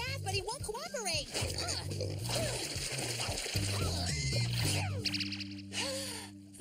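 A cartoon pig oinks and squeals as it is given a bath, with splashing water, under near-constant animated talking.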